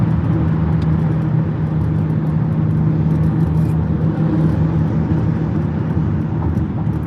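Steady car engine and road rumble heard from inside a moving vehicle, a continuous low drone with no speech over it.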